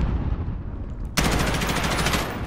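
Gunfire in the video game Call of Duty: Modern Warfare, open beta: after a quieter rumble, a sudden loud burst of rapid automatic shots keeps firing close and dense to the end.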